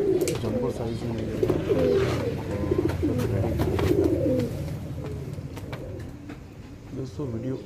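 Fantail pigeons coo continuously in overlapping low burbling calls, close by, with scattered wing flutters and rustling throughout.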